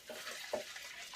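Water poured into a pot of bones for bone broth, heard as a short, close splash and gurgle with a couple of brief pulses, with no talk.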